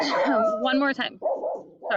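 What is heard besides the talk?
dog barking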